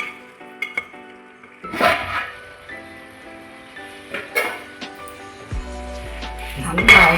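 Chicken perattu fries in a pan with intermittent stirring, scraping and clinks of a spoon against the metal, over a soft steady sizzle; sounds come in short bursts, close by.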